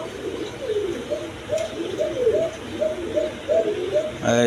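A pair of American Lakha pigeons coo close by in a repeated rhythmic series of soft throaty calls, with a brief sharper noise at the end.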